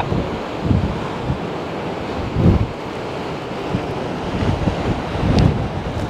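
Stormy Irish Sea at the Ardglass harbour entrance, with loud wind buffeting the microphone over a continuous wash of waves and a few heavier surges breaking throughout.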